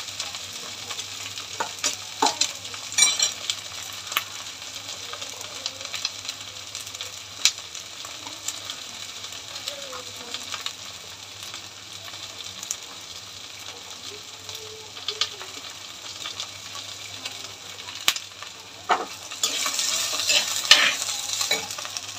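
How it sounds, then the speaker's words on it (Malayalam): Onion, green chili and okra sauté in a pan for a Kerala theeyal curry, giving a continuous close sizzle with frequent scraping stirs that grow a little louder toward the end. "സവാളയും പച്ചമുളകും വെണ്ടയ്ക്കയും കൂടെ ഒന്ന് ആദ്യം വഴറ്റുക കേട്ടോ."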